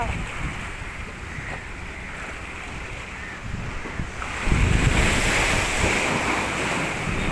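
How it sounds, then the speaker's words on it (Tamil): Ocean waves crash against rocks at Kasimedu beach in Chennai, a steady rushing surf mixed with wind buffeting the microphone that swells louder partway through as a bigger wave hits. "இவர் அலை வர்றத பாருங்கள் எப்படி அடிக்குது"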